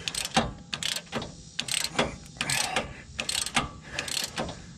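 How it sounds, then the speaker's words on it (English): A Milwaukee Fuel impact wrench loosening a bolt on a Dodge Ram steering stabilizer fires in about seven short, close rattling bursts with brief pauses between them. "My Milwaukee Fuel impact wrench"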